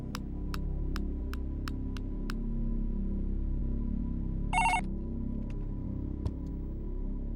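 A mobile phone ringtone in a Hindi-dubbed South Indian action movie, a quick run of evenly spaced bright beeps followed by a short burst of melody and a few scattered tones, all over a constant low hum.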